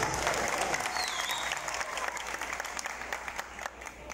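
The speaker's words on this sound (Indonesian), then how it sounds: "Tepuk tangan untuk kita semua" A large crowd of thousands at an evening volunteer gathering in Makkah applauds together, a steady, distant wash of clapping that carries on throughout with no talk over it.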